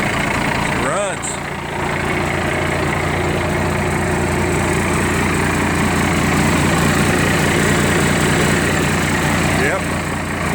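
An old Navistar S1700 truck engine idles close by, a steady, low rumble without pause, a broad even drone with a faint brief rise near the start.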